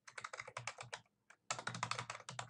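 Rapid typing on a computer keyboard, with dense bursts of key clicks, a brief pause near the middle, then a second fast flurry of keystrokes, close and fairly quiet.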